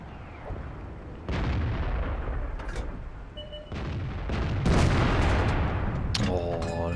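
Tank cannon fire in the online game World of Tanks, several heavy booming shots with rolling echoes spread across the stretch over steady engine and battle rumble, closing with a sharp electronic sound.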